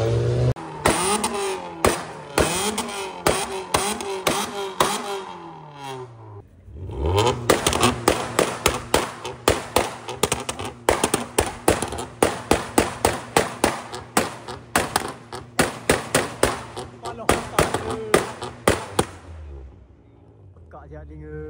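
A Toyota Yaris exhaust fires a rapid string of loud pops and bangs over a revving engine, with a brief pause and then a long burst of cracking shots up close.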